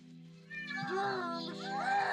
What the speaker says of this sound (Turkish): kedimi odamı kapatmışım o yüzden yam yam yam sesleri geliyor